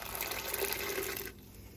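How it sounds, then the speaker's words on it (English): Wort recirculating through the pump and up the whirlpool arm of a Brewzilla during a hop stand for a Verdant IPA homebrew, a steady close rush of flowing liquid that cuts off abruptly near the end, leaving a faint hiss. "the whirlpool arm is recirculating, so the water is actually going through the pump at the bottom, up through that pipe"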